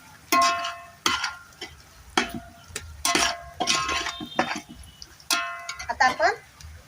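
Spices being stirred into frying onions with bedgi chilli in a pan on a wood-fired stove, a spoon scraping and clinking in repeated bursts over a soft sizzle.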